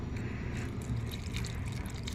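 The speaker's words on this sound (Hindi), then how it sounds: "साथ में डाल देती हूँ इसमें थोड़ा थोड़ा पानी" Water is poured a little at a time into a plant pot, a steady close trickle and splash that runs without a break and with no one speaking.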